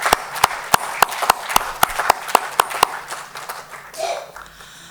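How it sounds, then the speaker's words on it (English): A small audience at an apartment-contest award ceremony claps in sharp, evenly spaced hand claps for about three seconds, then fades out as a faint voice follows. "can we give him a round of applause for all the years he's been behind the scenes?"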